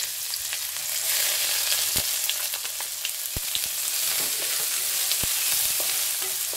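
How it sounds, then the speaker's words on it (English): Chopped onions, ginger and garlic fry in hot oil for Punjabi kadhi pakora, a loud continuous sizzle up close with occasional soft stirring taps. "We will cook them till the onions are golden brown"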